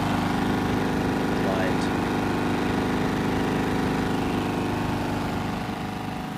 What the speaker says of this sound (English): There she is, running a fan.